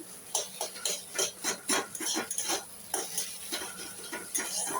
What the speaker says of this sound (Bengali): ডিমগুলো একটু ঝুরঝুরে করে ভেজে নেব